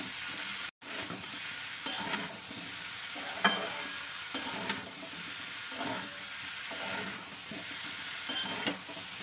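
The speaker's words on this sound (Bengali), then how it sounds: "বিন কড়াই দেওয়ার পরে একটু ভালো করে নাড়িয়ে নিতে হবে।" Boiled beans are stirred into frying potatoes in a pan: a continuous close sizzle with repeated scraping strokes of the stirring spoon, no voices.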